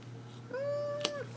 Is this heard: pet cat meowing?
yes